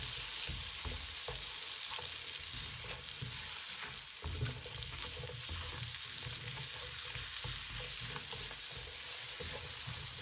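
Onion sautés in a pan with a continuous, even sizzle and frequent low stirring scrapes throughout, close and steady with no talking.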